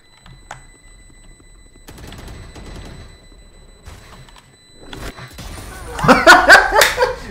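Gunfire in the video game Valorant, with a quiet stretch before a loud, rapid burst of shots near the end, while players talk and laugh.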